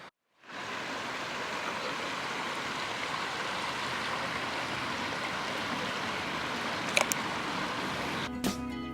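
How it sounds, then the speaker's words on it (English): Water in a stream or river rushes steadily outdoors as a continuous, full hiss, with a couple of brief clicks and knocks near the end. "just listening to the sounds of water"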